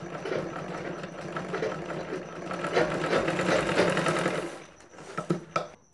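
Sewing machine stitching a blouse sleeve at a narrow half-inch margin, a close steady motor whir with rapid needle chatter that runs for several seconds, then slows into a few separate clicks.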